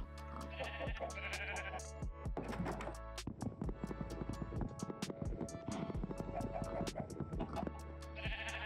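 Sheep bleating in a Minecraft-style one-block survival game, several short repeated bleats over steady game background sound, fairly close and clear.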